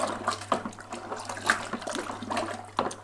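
Cold water gushes and splashes into a plastic beer-brewing fermenter being topped up to 23 litres, a steady pouring rush with bursts of splashing, close by and without talk.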